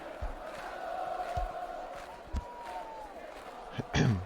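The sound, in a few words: stadium crowd noise in a football video game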